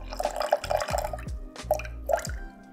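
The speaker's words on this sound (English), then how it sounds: "The next thing I'm gonna add is the water to 100 grams." Water being poured into a sourdough starter in a kitchen, heard as close, uneven trickling and dripping in several short bursts with brief pauses, no voices.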